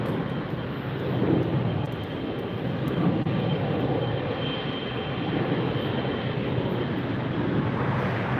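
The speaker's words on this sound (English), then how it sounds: "There goes United. Up, up, and away." A United airliner takes off at LAX, heard as a continuous broad jet roar at a steady moderate level from a distance, with no voices over it.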